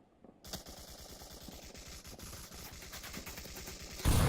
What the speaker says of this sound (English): putting out some suppressive shots